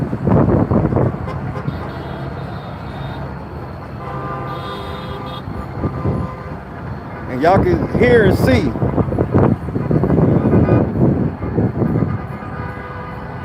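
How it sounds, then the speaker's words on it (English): Car horns honk in a street crowd celebrating the Oklahoma City Thunder's NBA Finals win near Paycom Center: several toots and blasts amid crowd noise and wind buffeting, with someone talking over it. "everybody out here honking the horns"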